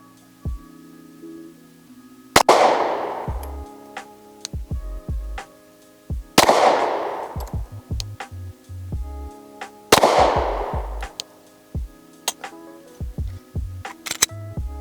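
Three loud, sharp gunshots from a Glock 19 pistol ring out several seconds apart, each followed by a brief echo, with clinks and small handling noises between shots.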